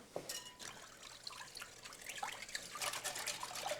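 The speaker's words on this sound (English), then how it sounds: "I'll whisk this up now." Whisking a liquid mixture flavored with cardamom and vanilla, heard as a quiet, steady wet swishing and light clinking against the bowl, alone and fairly close.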